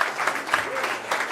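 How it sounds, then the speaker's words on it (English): Audience applause at a live indo-jazz show, a steady dense patter of clapping throughout with crowd noise, close and fairly loud. "Can we have a big round of applause for the owners and everybody"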